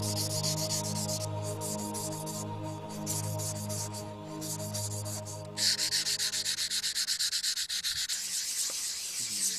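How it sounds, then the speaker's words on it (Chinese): Sandpaper of varying grit is rubbed back and forth over a carved stone inkstone, producing steady rhythmic rasping strokes, close and clear, with a faster, brighter run of strokes in the second half over a soft musical background. "最后一步就是打磨， 需要用不同粗细的砂纸把砚台仔细地打磨圆润光滑"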